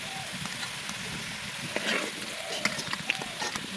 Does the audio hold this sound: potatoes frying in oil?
yes